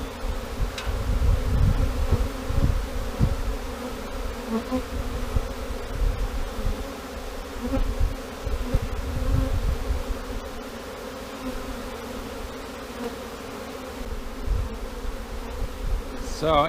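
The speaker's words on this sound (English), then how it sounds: "the bees will sense the queen is inside, and they will all start going in the entrance." A honey bee swarm hangs on a branch near a hive entrance, filling the air with a dense, continuous buzz of many wings that swells and dips slightly throughout, with no voices.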